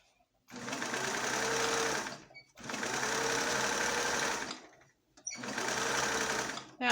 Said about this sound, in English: I am going to back stitch because I want this to be fairly sturdy.